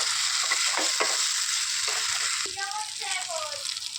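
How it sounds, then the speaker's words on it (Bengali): Pointed gourd and prawns sautéing in a pan, a steady bright sizzle with stirring scrapes, and a voice talking over it. "এখন সব কষাবো একসাথে ভালো করে কষিয়ে নিতে হবে এদের সাথে"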